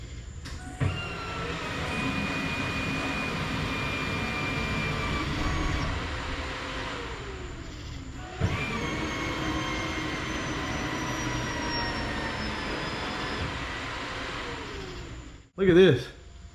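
An SVE high performance fuel pump runs in a Fox-body car, giving a steady electric whine and hum that cuts off briefly and restarts, then ends with a short loud thump.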